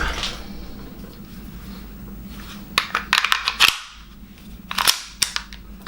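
A Taurus PT92 CO2 blowback full-metal airsoft pistol fires a quick string of sharp snapping shots in two bursts, loud and close, with gas hiss between.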